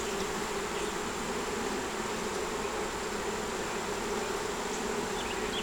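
Honeybees swarm around an open beehive while frames are being handled, a dense, steady buzz that fills the air evenly, near and continuous.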